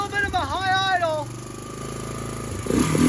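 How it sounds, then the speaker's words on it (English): A Honda 300 Fourtrax ATV with a new carburetor runs from a test gas tank at a slightly high idle, a steady low engine drone that continues throughout while a voice speaks briefly over it at the start. "She runs! It's got a little bit of a high idle."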